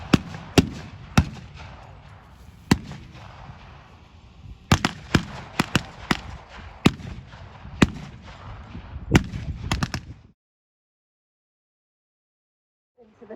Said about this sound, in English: wait until the last possible moment before opening fire on the advancing troops